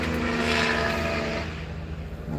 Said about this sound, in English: Sounded like another helicopter.